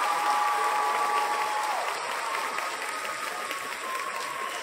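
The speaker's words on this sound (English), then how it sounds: "So an Earthkeeper round of applause for William Henry" Audience at a Star-Gate conference applauding William Henry, a broad, steady wash of many hands clapping that tapers slightly, with a faint tone fading out early.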